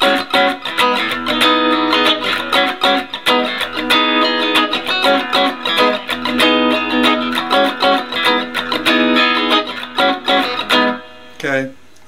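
Electric guitar strums and picks the chord voicings of a song in a rhythmic, repeated pattern, clear and close, played alone without talk.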